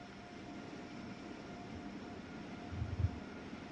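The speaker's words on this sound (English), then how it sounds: "it sounds like that's another train going by" Train Sim World 3 rail scene on the New York to Trenton line with an Acela: a low, steady rumble of another train passing somewhere in the distance, swelling briefly near the end, faint and with no talk.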